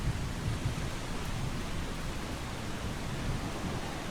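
Rain falls in the video game Eastshade, a steady, even hiss of downpour that fills the whole stretch without pause or voices.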